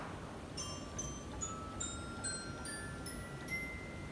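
Glockenspiel stop of a 1919 Wurlitzer pipe organ striking a slow ascending series of high, ringing metallic notes, about nine evenly spaced tones with short shimmering decay over a quiet hiss, no voices.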